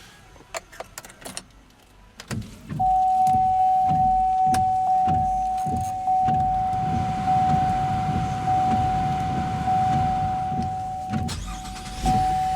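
A 2016 GMC Acadia's 3.6-liter V6 engine starts after some clicks and then idles steadily with a low rumble. A thin whine runs on top, nearby, with no talking.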